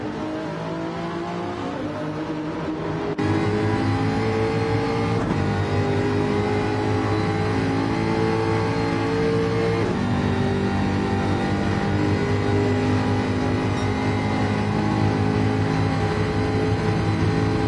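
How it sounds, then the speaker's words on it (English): Toyota Supra Gr-3 race car engine in the Gran Turismo video game, a loud sustained high-revving drone with shifting pitch and gear changes, steady and close throughout with no talking. "That Supra is so fast."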